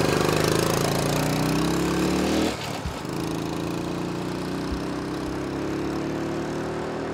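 A 1969 Honda CT90 K1 motorcycle engine runs close by, a steady buzzing idle that dips briefly as the throttle changes, then settles back into an even putter.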